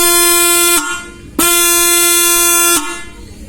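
A modified motorbike horn, its loudness being adjusted by tightening, honks in three steady, loud blasts with a sharp harmonic tone and short gaps between them, alone with no talk.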